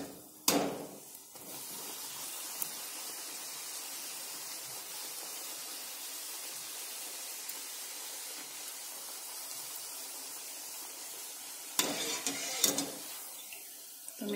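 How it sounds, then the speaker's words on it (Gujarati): Puri frying in hot oil gives a continuous, even sizzling hiss, framed by brief clattering handling noises near the start and again toward the end. "આ રીતે આપણે આ પૂરીને તળી લઈશું"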